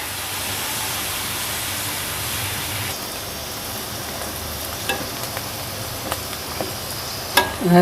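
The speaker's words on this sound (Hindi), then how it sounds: "अब हम इसे उस वक्त तक फ्राई करेंगे जब तक ये हल्के हल्के सुनहरे ना हो जाएं" Oil sizzles and crackles steadily as bitter gourd slices fry in a pan, with a few louder pops and stirring clinks near the end.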